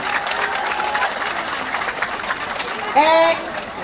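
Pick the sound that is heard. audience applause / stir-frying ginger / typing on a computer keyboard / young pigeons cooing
audience applause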